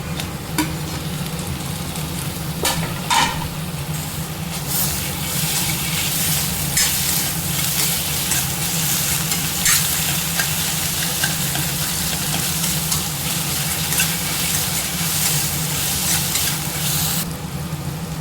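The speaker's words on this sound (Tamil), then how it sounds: "ஓரளவுக்கு வதங்கிருச்சு நம்ம தக்காளியை சேர்த்துப்போம்" Tomatoes fry in a pan of oil with a steady loud sizzle throughout, broken by occasional clinks and scrapes of stirring, with no talk.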